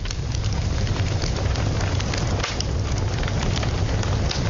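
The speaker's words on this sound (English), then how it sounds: "That is the sound of a wood burner." Crackling fire in a wood-burning stove, a steady close rush of low flame noise dotted with faint pops and snaps, continuous throughout with no voices.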